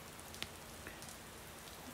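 Rain falls steadily in a wet summer setting, a soft continuous patter with faint drips and a few brief taps, quiet and fairly close, with no voices.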